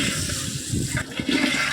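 Water poured in a large quantity, about 4.5 litres, into chicken biryani masala in a hotel-style cooking pot, a loud continuous splashing gush with slight surges, no voices.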